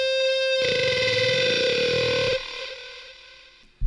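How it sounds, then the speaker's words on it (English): A lead synth guitar patch with heavy distortion and effects plays a sustained, buzzy tone that swells loudly for a couple of seconds, then decays into a fading tail before a sharp burst at the very end. "So that is the lead synth guitar patch."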